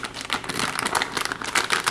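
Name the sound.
opening packaging of Creative Game Blaster sound card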